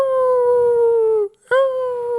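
A person imitates a small white dog howling with one long, sustained, drawn-out vocal howl, a brief break, then a second rising howl, loud and close with no other talk.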